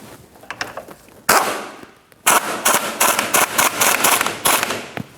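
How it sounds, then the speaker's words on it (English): An Audi lower control arm ball joint nut being snugged up with a ratcheting tool, giving sharp, rapid clicking bursts in quick succession, close and fairly loud, with a short pause partway through. "And now we can snug up our ball joint."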